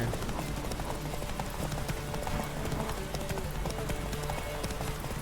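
In The Witcher 3, a horse runs with a rapid, steady clip-clop of hooves that carries on without a break, loud against a busy game background.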